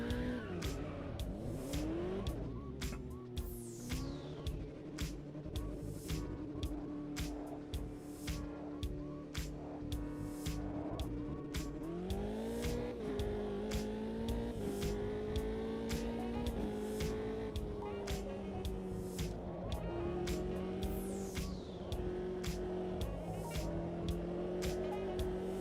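Race car tyres squealing during qualifying in a racing video game, a loud sustained engine drone with repeated sharp squeals and skids and rising revs that carry on throughout.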